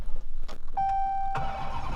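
A manual Dodge Challenger Hellcat fires up warm, with a short chime tone over a cranking sputter that breaks into a loud, rumbling engine catch near the end, heard close from the cabin.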